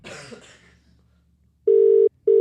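Ringback tone on an outgoing telephone call: two long, loud steady electronic ring pulses with a short gap between, following a brief murmur of voices at the start.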